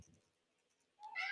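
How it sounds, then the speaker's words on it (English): A house cat lets out a single short meow near the end after near silence, fairly faint and close. "that was my cat meowing"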